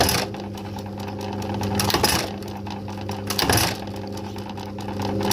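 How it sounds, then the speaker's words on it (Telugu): A snap button machine fixes buttons onto pants in a tailoring workshop. A continuous mechanical whir carries fast rattling ticks, with two louder press thumps standing out, close and without talk. "మీరు చూస్తున్నది స్నాప్ బటన్ మెషిన్."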